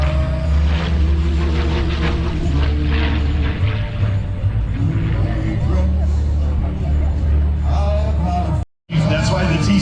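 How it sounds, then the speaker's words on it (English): Curtiss P-40 Warhawk propeller fighter flying at an airshow in Orange County, New York, a loud steady engine drone filling the whole clip with crowd noise underneath, cut by a brief dropout near the end. "But here is the combat veteran, the P-40 Warhawk."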